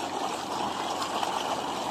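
Steady rushing water from a slow-running motor pump flows continuously, a close, even gush with a slight gurgle and no voices.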